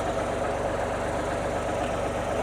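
A Hayes tractor with a backhoe attached idles at low revs, its engine giving a steady, even knocking rumble that holds constant throughout, close by, with no speech.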